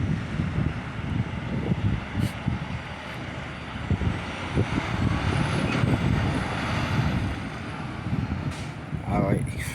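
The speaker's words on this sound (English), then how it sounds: "you're gonna see that truck coming out" Dump truck rolling out of a high school stadium construction site during dirt removal, a steady mid-distance engine rumble with wind and site noise, a few sharp hisses and a brief whine near the end.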